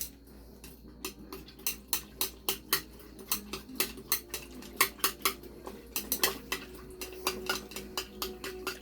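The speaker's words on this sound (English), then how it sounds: "we'll get in here and stir this up with a stir stick" Gold jewelry stirred with a stir stick, 442 grams of unmarked pieces, giving a rapid run of sharp metallic clinks and rattles close by, with steady regular hits throughout and no talking.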